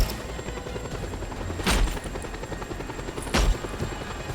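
Helicopter in the video game Just Cause 2, a steady rotor and engine drone running throughout with two short loud booms cutting through, no talk.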